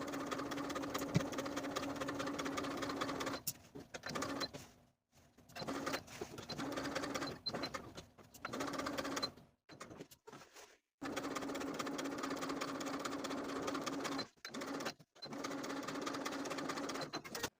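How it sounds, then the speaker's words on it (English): A sewing machine runs a regular straight-stitch seam on pull-on pants in close, steady whirring bursts, stopping and starting several times with short silent gaps between runs. "Sew along your stitching line with a regular straight stitch"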